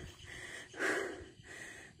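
Heavy, breathy panting from someone hiking uphill on a mountain trail, with a few close, ragged breaths and one stronger gasp in the middle.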